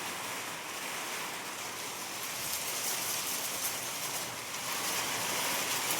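Outdoor rain falls in a steady, soft hiss with some gusting wind, continuous and fairly distant with no voices.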